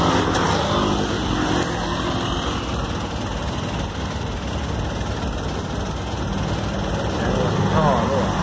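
Car engine idling in a repair garage with a suspected leaking exhaust pipe, a steady loud drone that holds level throughout with no change in pace.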